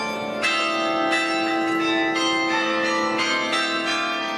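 Several church tower bells of different sizes ring together in a Porto bell tower, loud and close, with repeated strikes about every half second and long overlapping resonant tones, no voices.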